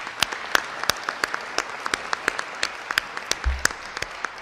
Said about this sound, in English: So another round of applause for my incredible partner,